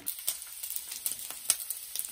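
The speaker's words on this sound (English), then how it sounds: "Frying up some bacon for my sliders." Bacon sizzling and spitting as it fries in a pan for burger sliders, a steady close crackle with frequent sharp pops, no voices.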